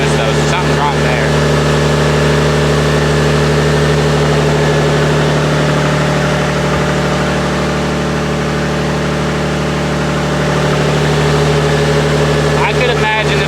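Peterbilt 379 truck with a Tungsten Cummins diesel engine idling, a loud, steady low rumble with a constant hum, close and unbroken throughout.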